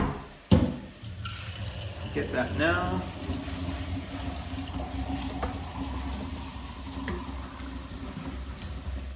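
Water runs from a kitchen tap into a pot while chickpeas, kale and Parmigiano are being cooked, a steady close splashing stream under brief talk, with a sharp clatter near the start.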